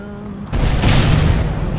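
A heavy tank cannon shot from a Centurion in World of Tanks booms out loud and close, its blast and rumbling tail sustained through the rest of the moment after a quieter engine hum.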